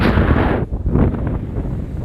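Very strong wind in Australia blasts straight into the microphone, heavy low rumbling buffeting with gusty thumps and a brief lull partway through, loud and close with no voices.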